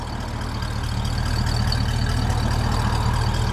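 A fully restored 1965 Ford Mustang with 99,000 original miles idles steadily, a deep low rumble holding even and close, with no talking.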